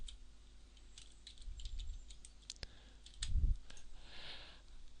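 A few soft clicks and taps on a computer keyboard while entering a command in AutoCAD, faint and scattered, with a quiet background hum and no speech.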